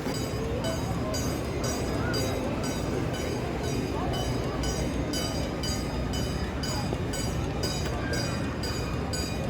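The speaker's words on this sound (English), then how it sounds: "I spoke too soon about the train not running because I just heard it, and the crossing bars are coming down." A Busch Gardens park train runs near a railroad crossing as the crossing bars come down, a steady rumbling rail noise that holds through the stretch, with faint voices in the background.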